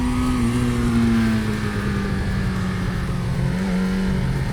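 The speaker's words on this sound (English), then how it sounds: "this bike is such a rev happy machine." A 1989 Suzuki GSX-R 750 sport motorcycle on the move, its engine droning loud and close as the pitch dips and climbs again, wind rush heavy over the ride.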